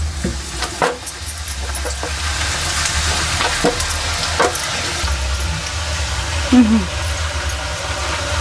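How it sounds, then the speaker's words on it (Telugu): Wheat flour appalu deep frying in hot oil, a steady soft sizzle running throughout with a few faint clinks of utensils, while someone talks over it. "ఇట్లనే డీప్ ఫ్రై చేసుకోవాలి మనం"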